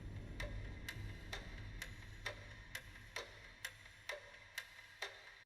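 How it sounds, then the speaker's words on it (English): Clock-ticking tension-builder sound effect: a steady series of sharp, evenly spaced ticks, roughly two per second, over a low background hum, with no voices. "Tension builders, clock ticking."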